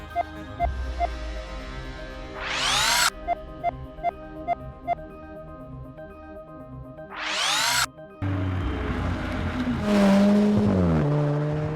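An Alfa Romeo 4C, a light carbon-bodied sports car with a 237 bhp engine, revs up through the gears with sharp rising sweeps and gear-change dips, then a louder gritty pass near the end.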